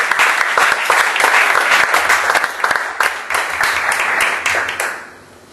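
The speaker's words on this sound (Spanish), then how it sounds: "Vamos a ir aplaudiendo a los programas." An audience at a poetry and tango event in San Lorenzo gives loud, sustained applause with sharp individual claps, tapering off at the end.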